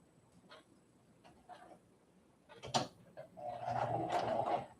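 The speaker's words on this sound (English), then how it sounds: "I am going to sew this nice and slow." A sewing machine stitching a rag doll slowly: a few soft mechanical clicks and starts, then a louder steady whirring run of stitching near the end, close up with no talking.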